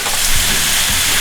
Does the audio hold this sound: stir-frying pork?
yes